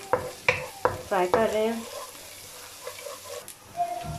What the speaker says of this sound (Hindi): ये देखें क्रैक क्रैक की आवाज़ें आ रही हैं